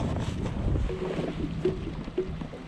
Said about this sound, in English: The wind is horrible.